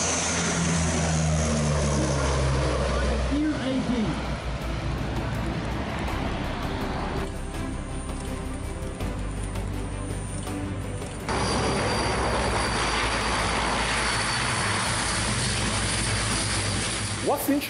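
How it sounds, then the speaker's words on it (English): A 1969 Illusion 18 airplane flies past at an air show, its engine and propeller drone steady and loud throughout, with shifting tone as it passes and a brief change in texture midway. "the very first airplane on the air show is a 1969 Illusion 18"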